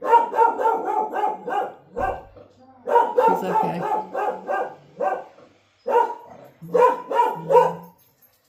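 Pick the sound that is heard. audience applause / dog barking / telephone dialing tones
dog barking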